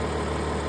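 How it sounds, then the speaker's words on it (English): A Cummins ISL9 diesel engine idles, prepared for an ECM cylinder cutout diagnostic test, giving a steady, close, low rumbling drone with constant vibration and no talk. "The engine needs to be running"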